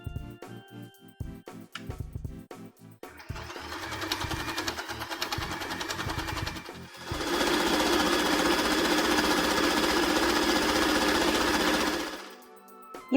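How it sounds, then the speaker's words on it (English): A sewing machine sews a knit stitch on fabric for a Celtic knot headband, starting with uneven short bursts, then settling into a long, loud, steady run at higher speed before stopping, close with no talk. "I'll use this knit stitch to sew the Celtic knot headband."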